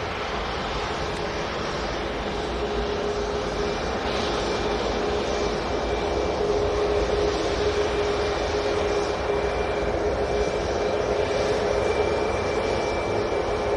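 Icelandair airliner taxiing at Manchester Airport, a steady broadband engine roar with a faint whine, sustained at constant level throughout, heard from a moderate distance.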